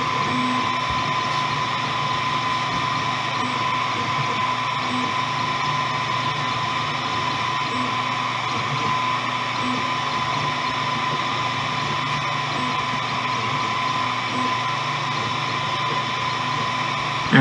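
Atomstack A5 M50 blue diode laser engraver working on a board, a steady motor whine and high tonal hum running continuously at constant level with faint rhythmic ticks, no voices present.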